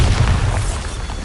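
Bombarda spell blast in the video game Hogwarts Legacy, a loud, dense low boom that holds for over a second with a rumbling tail and no talk over it.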